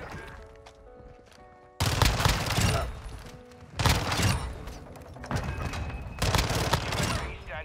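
Modern Warfare 2 video game gunfire: loud, dense bursts of automatic fire in three heavy waves separated by short lulls, with booming impacts and mechanical clatter, close and dominant throughout.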